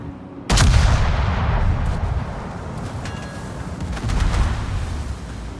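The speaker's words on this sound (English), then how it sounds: "Someone's taking pot shots at me." A sudden loud gun blast hits the player's ship in World of Warships, followed by a long rumbling decay and a second swell of booming fire, heavy and close with no talk.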